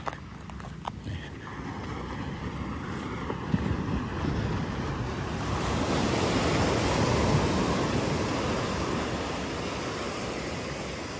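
Surf rolls continuously onto the long coral-pebble shore of Pasir Ganting beach in Pesisir Selatan, a steady wash that swells louder partway through, with wind buffeting the microphone and no voices.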